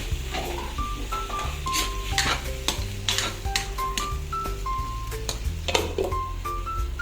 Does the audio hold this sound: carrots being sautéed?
yes